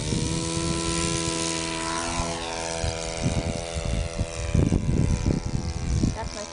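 A propeller aircraft's engine drones loudly and steadily through a takeoff, its tone shifting as power builds, with voices talking over the later part.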